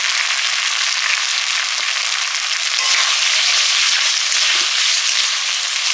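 Yam pieces and spices being fried in a pan with tomato and salt, a steady dense sizzle that holds at an even level throughout with no voices.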